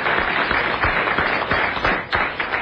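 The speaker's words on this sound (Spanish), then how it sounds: "Un aplauso para él, por favor." Studio audience applause welcomes a guest onto a Spanish-language talk show set, a dense, steady wash of clapping with a few sharper claps standing out.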